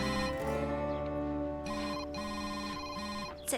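A mobile phone ringtone plays loudly and alone, a repeating melodic ring in short bursts with steady tones, interrupting a rope-tying lesson on a ranch.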